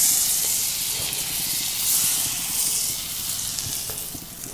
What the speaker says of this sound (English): Let's take a couple tablespoons of butter. We'll add that. Once the butter foam subsides,